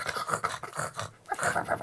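A person's voice imitates a pug dog, with a rapid run of close, breathy panting and snorting puffs that stop briefly, then resume.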